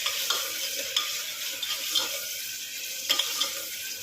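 Sizzling and stirring in a pan as a little water goes onto cooking onions with garlic-ginger paste, a steady hiss with soft spoon clicks and small bursts, close and alone without talk.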